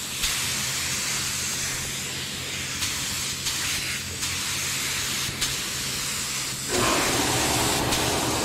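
A spray gun hisses steadily in long continuous passes while spray painting a skateboard with candy paint, with brief pauses and a louder, harsher burst near the end.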